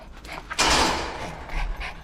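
Small dog panting close by, quick breathy puffs mixed with a short broad rustle or bump, heard alone without talk.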